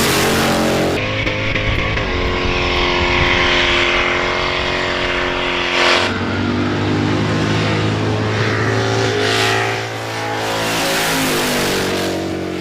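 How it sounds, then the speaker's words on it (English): Two cars racing side by side while doing a burnout, engines roaring loud and continuous with revving surges, no voices over the din. "they'll be side by side, racing while doing a burnout"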